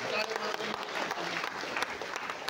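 A crowd applauds at a community Samaj Day gathering in Hubli, dense steady clapping filling the moment with a voice heard over it.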